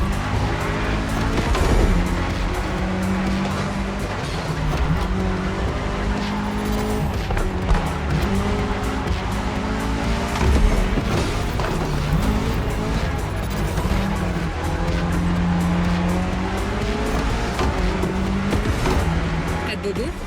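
A Mitsubishi Evo X driven in The Crew Motorfest racing game, engine droning steadily with repeated tire squeals and skids along a fast run, close and loud, with a voice talking over it at times.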